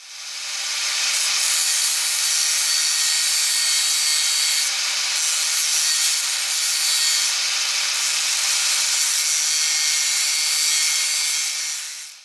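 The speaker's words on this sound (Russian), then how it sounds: "здесь придется немного поработать болгаркой" An angle grinder cutting metal gives a loud, continuous high-pitched grinding hiss that holds steady for several seconds with slight surges.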